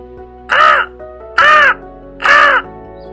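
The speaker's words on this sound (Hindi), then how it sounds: "ये कौवा इतना चिल्ला क्यों रहा है?" Three loud, harsh crow caws close by, each about a third of a second long, evenly spaced against a quiet background.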